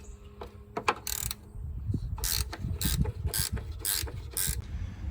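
A hand ratchet loosens the fan shroud bolts on a second-generation Nissan Pathfinder, giving rapid bursts of clicking in short repeated strokes, close and fairly loud, with light rustling between them.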